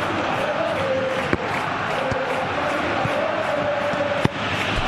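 Stadium crowd in a FIFA football video game, a steady, dense wash of cheering and applause that keeps going throughout at a constant level, broken by a couple of faint thumps.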